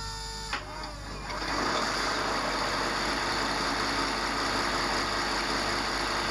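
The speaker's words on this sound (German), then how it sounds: "erwacht die V60 zum Leben und verfällt anschließend das typische Leerlaufgeräusch" A model DB V60 diesel locomotive's engine starts with a brief burst, then settles into a steady, even idling rumble that continues without talk.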